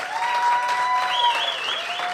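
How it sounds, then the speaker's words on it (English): An audience at an evening community event gives a short, steady round of applause, a dense crowd clapping close and loud with no talking. "Give her a round of applause."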